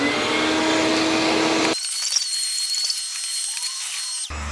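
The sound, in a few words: vacuuming debris in a vintage truck camper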